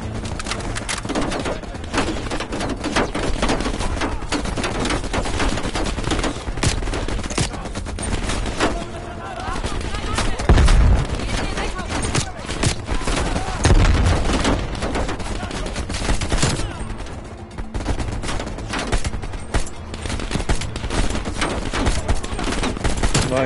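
Dense, continuous gunfire from the video game Call of Duty: Black Ops Cold War, with rapid automatic bursts and heavy impacts layered into a loud, unbroken barrage throughout.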